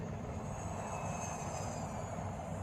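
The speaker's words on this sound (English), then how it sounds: "Thomas has two friends who don't run on the rails, Jeremy the plane" An airplane engine drones steadily and evenly throughout, a continuous low roar with a faint high whine on top.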